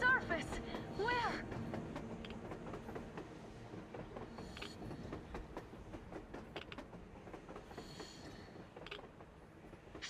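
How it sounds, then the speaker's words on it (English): Rumbling rail clatter from a train running on the surface in the video game Metro Exodus, with dense mechanical clanks and clicks throughout, slightly louder at the start and steady after, under game dialogue. "A damn train on the surface!"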